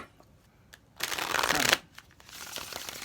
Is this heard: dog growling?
no